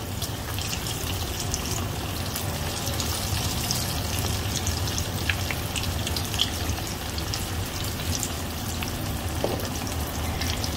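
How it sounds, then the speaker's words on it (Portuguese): Potato croquettes (bolinho de batata) frying in hot oil in a pan give a continuous dense sizzle and crackle, steady and fairly loud throughout, with occasional small pops and no talking. "Aqui já tá quente o óleo, é só ir largando ali pra dentro."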